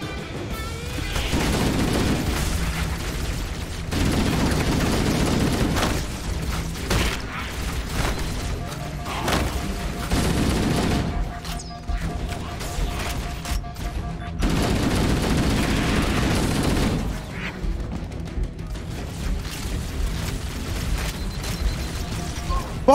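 Gunfire and explosions from Halo: Combat Evolved on Legendary co-op, coming as dense repeated bursts with several loud volleys across the stretch, broken by brief quieter gaps.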